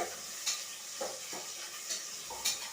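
Mutton sambar masala fries in oil with a soft, continuous sizzle, broken by several light scraping stirs of a utensil in the pan, close up and without talk.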